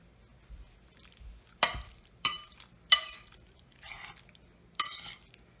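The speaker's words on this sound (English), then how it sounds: "We'll get that stirred in there real good." A spoon works through tuna pasta salad in a bowl, making five sharp scraping clinks against the side with soft wet squishes between them, close by and otherwise quiet.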